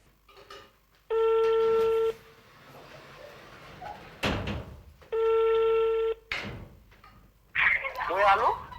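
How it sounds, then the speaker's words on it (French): A telephone call being placed: two long electronic ringback tones separated by a pause, with a brief clunk between them, then a voice answering at the end. "Vous pouvez lancer l'appel"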